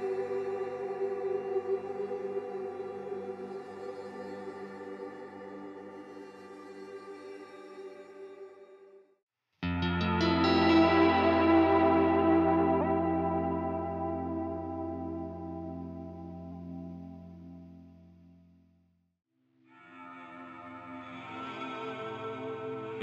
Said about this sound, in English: some pedals that aren't really lo-fi reverb pedals, but can still do lo-fi reverb